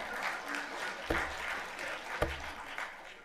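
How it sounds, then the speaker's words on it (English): An audience applauds at a community awards ceremony in a public library, with a steady wash of clapping throughout and a couple of louder sharp claps standing out. No one speaks over it. "can you give me a round of applause for saying that"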